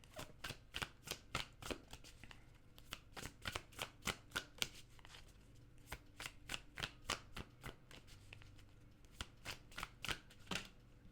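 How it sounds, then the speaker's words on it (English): Tarot cards shuffled by hand in a quiet room, a long run of soft, rapid riffling flutters and taps in uneven bursts, close and fairly faint. "I'm going to put a clarifier on this card"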